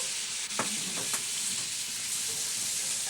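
Sausages sizzle in a frying pan with a constant, even crackle, broken by a couple of brief utensil scrapes near the start.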